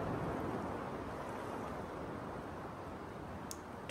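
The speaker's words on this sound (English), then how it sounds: "Stretching and relaxing as you listen to the waves" Ocean waves wash steadily against a shore at sunset, a constant broadband rush with no distinct breaks, fairly faint and unbroken by any voices.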